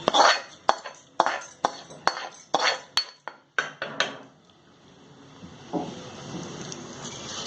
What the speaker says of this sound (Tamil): தாளிச்சதை இதில் நம்ம கொட்டிக்கலாம்.